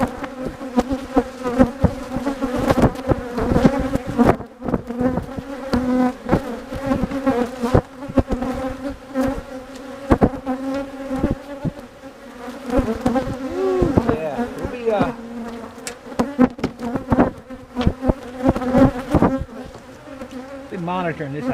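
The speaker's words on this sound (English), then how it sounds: "If you can hear it, I know the bees are all over that camera." Honeybees buzz densely around a camera at a hive, a close, continuous droning hum with wavering pitch and individual bees passing near, loud and sustained throughout without talk.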